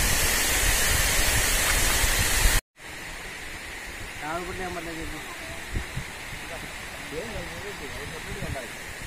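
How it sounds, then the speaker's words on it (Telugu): Steady broadband rush of water at the Gandikota waterfall, loud and constant for the first few seconds, then softer and continuing beneath someone talking after a brief cut. "జలపాత సౌండ్?"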